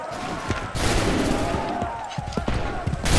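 Musket volleys crack in the Assassin's Creed 3 video game, a sharp burst of massed gunfire followed by scattered booming shots and thuds over continuous battlefield noise.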